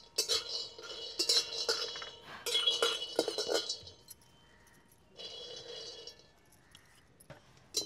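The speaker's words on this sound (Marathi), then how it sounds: "आपल्याला आता कढईत शेंगदाणे भाजून घ्यायचे तर" Peanuts dry-roasting in an iron kadhai over a lit fire, stirred with a metal spoon that clinks and scrapes against the pan in bursts, with quieter pauses between.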